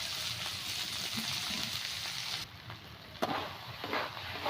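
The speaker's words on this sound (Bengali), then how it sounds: "নারকেল করা দিয়ে আমি ভালো করে ভেজে নেব" Snake gourd frying with grated coconut and chopped chilli in a pan makes a continuous close sizzle that drops briefly midway and is then broken by light stirring clatters.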